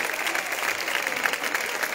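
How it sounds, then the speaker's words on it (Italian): A theatre audience at an Italian tribute evening gives sustained applause for the band members: dense, even clapping fills the room at moderate loudness throughout, without a break. "accompagniamo con un lungo applauso tutti i componenti della maschera che sono Vincenzo Capasso, trombettista."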